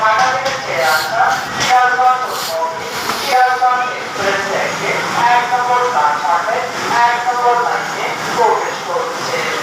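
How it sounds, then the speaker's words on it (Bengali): The Sirajganj Express train rumbles and hisses through Airport railway station in Bangladesh, a steady, fairly loud rolling noise with metallic screeching tones, while people talk nearby. "সিরাজগঞ্জ ট্রেন অনেক বড় ট্রেন তিন লাইনে তিন লাইনে যায়"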